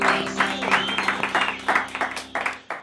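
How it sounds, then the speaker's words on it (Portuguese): Audience applause for a soon-to-be father, a brief burst of scattered clapping that thins out within a few seconds, heard alongside indoor voices. "Salva de palmas, vai ser papai aí."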